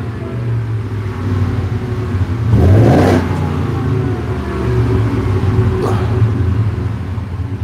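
A Ford F-250 pickup truck engine with dual exhausts rumbles steadily, then surges in a throaty rev before settling back, with a second smaller rev later, loud and nearby.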